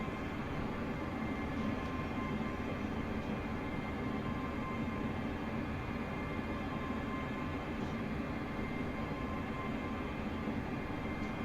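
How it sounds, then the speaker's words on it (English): Class 385 electric multiple unit in Train Simulator Classic, approaching a platform at Stirling station: a steady, broad rumble of wheels and motor that holds at an even level throughout with no voices. "Train now approaching platform 6 is for Alloa."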